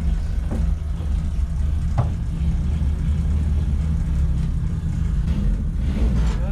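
A Renault engine in a C15 build idles steadily after starting, a close, even low rumble with no talk and a couple of faint knocks.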